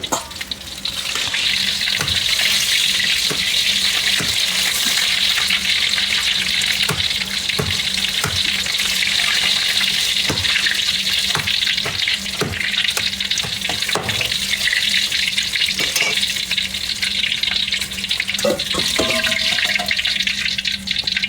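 Hainanese chicken rice being fried in a pan, a steady loud sizzle with scattered crackles and pops running throughout, with no voices over it.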